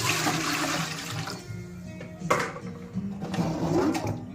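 Water, including rice-rinse water, poured into a nearly full bucket during a microbial fermentation setup, making a close rushing, splashing pour that swells in a few bursts.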